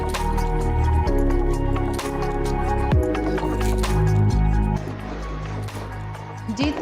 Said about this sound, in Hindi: अभी हम इनको और अच्छे तरीके से मिक्स कर लेते हैं।